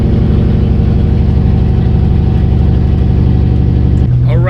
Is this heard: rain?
no